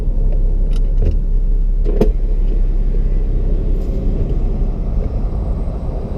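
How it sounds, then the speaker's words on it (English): A Nissan G35's new exhaust rumbles deep and continuous close by as the engine pulls away from a light, with a few faint clicks early on. "guys haven't really got to hear the new exhaust setup too well"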